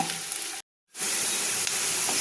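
Potatoes frying in a pan with salt and a little sugar, a steady loud sizzle that cuts out briefly to silence and then resumes just as strongly.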